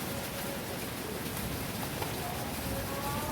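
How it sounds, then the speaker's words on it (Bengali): Heavy rain falls steadily outside a home kitchen, an even, dense hiss of drops hitting surfaces with no break. "এদিকে খুব বৃষ্টি হচ্ছে বন্ধুরা"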